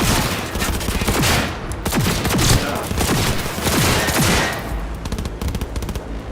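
Rapid automatic gunfire rattles through a firefight in the video game Cyberpunk 2077, loud and close, with sustained bursts and overlapping shots across the whole stretch.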